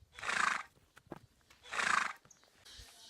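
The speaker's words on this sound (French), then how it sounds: "des chevaux" Horses neigh on a tropical countryside farm in Brazil, two loud, drawn-out whinnies about a second and a half apart, with faint clops and rustling between them.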